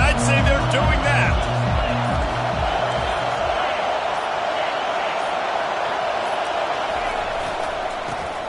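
Crowd in a college football stadium at a Georgia versus Tennessee game, a sustained loud roar filling the air, with an announcer's voice heard over it.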